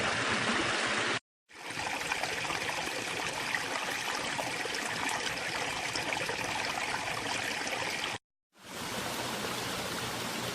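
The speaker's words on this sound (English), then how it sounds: "Pondless waterfalls give you the look and sound of a natural stream and waterfall in your yard" Water flowing steadily through a backyard pondless waterfall and stream, a constant close rushing trickle broken by two brief gaps of silence, with no voices.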